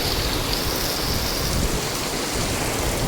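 Heavy rain with strong wind at a home during a red alert, a dense, loud, continuous roar of downpour filling the whole stretch without pause.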